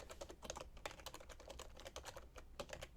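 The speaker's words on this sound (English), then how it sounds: "For to, you type in the to email address" Steady typing on a computer keyboard while entering an email address, a dense run of quick, close, crisp key clicks with no pauses longer than a beat.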